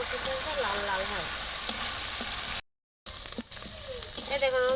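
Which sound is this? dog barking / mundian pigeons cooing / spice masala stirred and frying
spice masala stirred and frying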